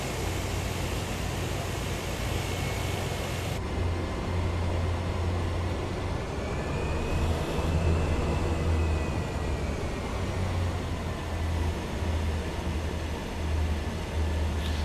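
A heavy aircraft in Microsoft Flight Simulator 2024 takes off with full flaps from a short, high-altitude runway, making a steady, loud engine roar with a broad hiss that holds unbroken throughout.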